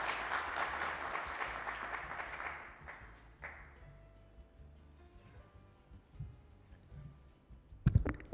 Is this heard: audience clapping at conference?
yes